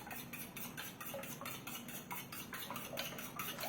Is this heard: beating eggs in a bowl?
yes